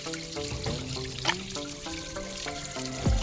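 Water from a natural village spring in Pauri Garhwal pours and trickles into a container, with splashing and ringing tones that shift as the vessel fills.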